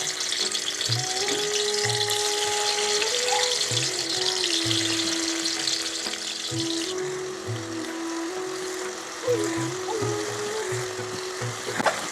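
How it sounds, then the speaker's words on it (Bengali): Paneer frying in hot ghee gives a steady, close sizzle throughout. Faint voices and music sit quietly underneath. "ঘিটা গরম হয়ে গেছে, এবার এর ভিতরে আমি পনিরগুলো দিয়ে ভাজা করে নেব"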